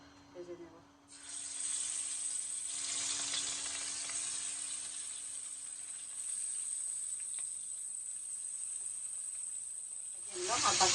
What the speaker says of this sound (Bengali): তো এখন আমি মাছগুলো ভেজে নেব।